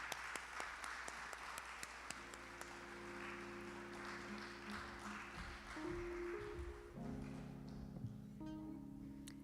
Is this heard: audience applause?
yes